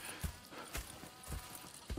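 Horse hooves clip-clopping in Red Dead Redemption 2, a few separate heavy thuds spaced unevenly at a slow walking pace, fairly close, with no talk over them.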